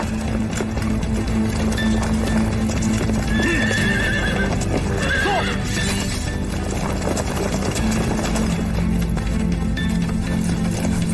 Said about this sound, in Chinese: 马蹄声3响1轻